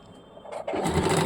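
A sewing machine stitching a petticoat starts from quiet and whirs up into a steady, close motor hum with a fine rapid clatter, running alone without talk.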